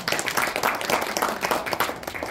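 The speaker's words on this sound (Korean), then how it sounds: "박수 한번 다시 한번 해주십니다" Loud audience applause at a policy forum in Daejeon, a burst of many hands clapping that stays strong throughout, rising and falling slightly in waves.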